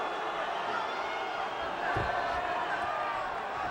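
Boxing arena crowd at a Morales vs Rahim fight, a broad steady roar of many voices rising briefly with excitement before settling back to a dense murmur, with a low thud in the middle.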